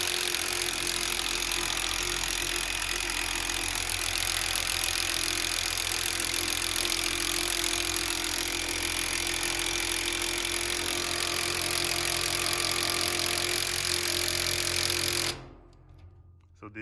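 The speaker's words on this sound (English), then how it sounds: "the way we tighten it is I'm gonna use a impact" An impact driver runs in a long continuous burst while winding a garage door torsion spring, loud and close with a steady rattling whine, then cuts off abruptly.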